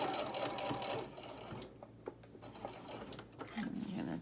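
A sewing machine stitches the side of a small tote bag with pockets, running in short bursts at the start and end with quieter handling noises and pauses between, fairly faint.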